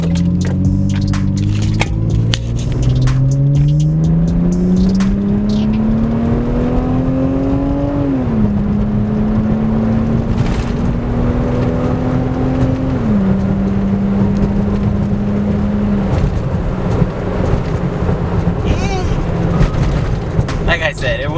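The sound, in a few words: Lexus IS300 engine and exhaust with Y pipe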